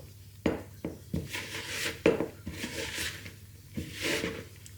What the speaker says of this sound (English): we can start mixing it and making it into a lovely dough. I'm gonna get my wooden spoon in here